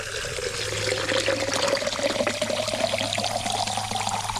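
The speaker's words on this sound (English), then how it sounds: "Just going to turn it on, fill up our mason jar." A garden hose runs water into a mason jar, giving a continuous close pouring and trickling sound with a steady rushing flow throughout, no talking.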